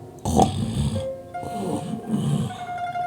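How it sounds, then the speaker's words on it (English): Slow, rumbling snores, a couple of drawn-out breaths with a low guttural rasp, heard close and fairly quiet with faint background tones. "She started to snore."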